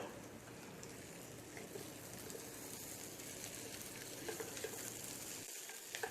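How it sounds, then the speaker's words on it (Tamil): Potatoes roast with onions in a pan, making a faint, steady sizzle with soft scattered crackles that continue throughout. "இப்போ உருளைக்கிழங்கு சேர்த்து அந்த வெங்காயத்தோடு நல்லா முருவலாக ரோஸ்ட் பண்ணி எடுத்துடலாம்."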